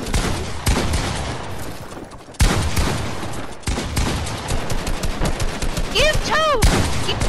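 Gunfire in the video game Fortnite: loud rapid bursts of shots and fusillades with brief pauses, mixed with other sharp in-game effects.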